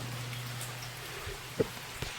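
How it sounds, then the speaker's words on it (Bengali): Steady rain falls during a downpour in a village, a soft, even patter and hiss that continues throughout with a couple of faint drips or knocks and no talking. "এখনও বৃষ্টি পড়ছে"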